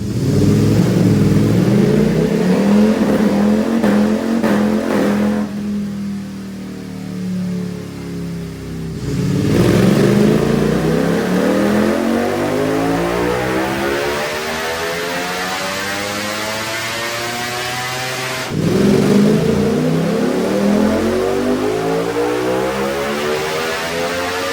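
A 2025 Ducati Panigale V4 runs dyno pulls on race gas. The engine winds up in long rising sweeps to a loud, sustained howl, drops off, then climbs again in repeated pulls, close and dominant with no speech.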